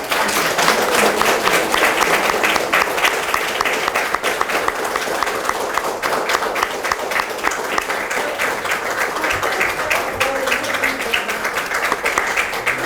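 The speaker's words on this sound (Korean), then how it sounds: "큰 박수 부탁드리겠습니다." Sustained audience applause at a Justice Party leadership inauguration ceremony, a dense, steady wash of many hands clapping that fills the room for the whole stretch without pause.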